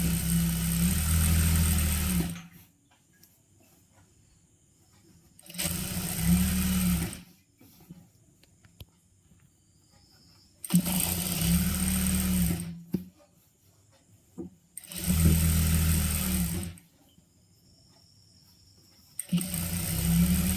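A sewing machine runs in four separate bursts of stitching, each a few seconds long with quiet pauses between, hemming a folded churidar waistband close to the microphone.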